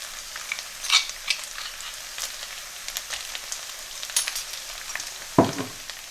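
Ginger garlic paste fries in a pan, a soft, close crackling sizzle with scattered pops and occasional stirring scrapes, no voices.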